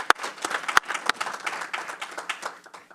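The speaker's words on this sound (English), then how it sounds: "Applause certainly is certainly in order." Light, scattered clapping from a small group at a transit board meeting, a few sharp near claps standing out over a thin patter that slowly trails off.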